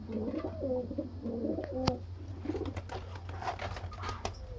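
A Sialkoti 35 breeder pair of pigeons coos nearby in repeated soft, low, throaty phrases, with a faint sharp click and light rustling behind them.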